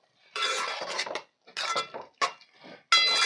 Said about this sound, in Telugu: ఇప్పుడు గరిటెతో ఒకసారి కలుపుకొని